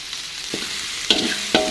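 Seasoning being stirred in a hot frying pan for quail egg and chicken meatball balado, with a few distinct scraping strokes of the spatula over a soft, steady sizzle.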